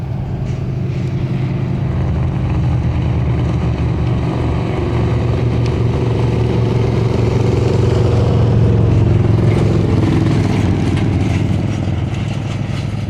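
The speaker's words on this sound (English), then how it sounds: "Here comes a truck." A truck drives past near the Cleveland airport runway, its steady engine rumble swelling slightly toward the middle and easing off, heard fairly close with no talk over it.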